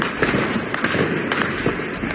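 A rapid barrage of sharp gunshots crackles without pause, many cracks overlapping in quick, irregular succession, loud and echoing, during a police operation in Rio de Janeiro.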